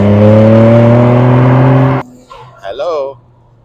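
A Nissan Skyline R34 GT-R V-Spec II engine holds a loud, steady, high-revving drone for about two seconds and then cuts off abruptly. A voice follows in the quieter remainder.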